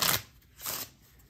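Two quick riffling bursts of a playing-card deck being shuffled, crisp and close, with a short pause between them.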